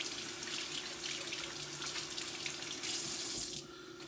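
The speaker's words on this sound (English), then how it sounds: "So you rub them together in cold water." Cold water runs steadily from a kitchen sink tap as vegetables are rubbed together beneath the stream to rinse them for a slow-cooked beef stew, a continuous close splashing rush that cuts off abruptly near the end.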